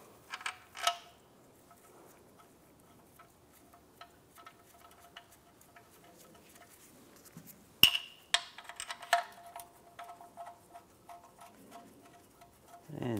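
Oil pan bolts on a 1998-2010 Volkswagen Beetle are tightened with a hand tool, producing sparse faint ratchet ticks and clicks, with a few louder metallic clinks in between.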